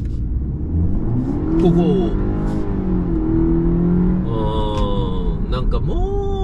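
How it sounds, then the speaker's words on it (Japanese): A BMW 523i Exclusive accelerates hard from inside the cabin, its engine note climbing steadily through a long pull with a brief pause, loud and continuous, while a voice counts and talks over it. "ではちょっとフル加速してみましょうよ"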